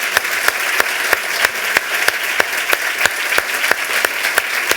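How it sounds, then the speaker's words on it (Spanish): An audience at a talk show or lecture applauds steadily, dense clapping filling the room with a few sharper individual claps standing out throughout. "quiero que te demos un magnífico aplauso"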